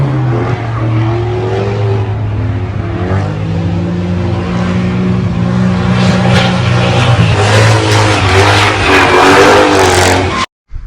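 A race car on a practice run at Calder Park roars loud and close, its engine climbing through repeated revving surges and gear changes before cutting off abruptly at the end.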